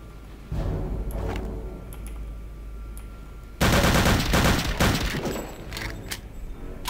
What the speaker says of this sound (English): But man, this gun is satisfying to use.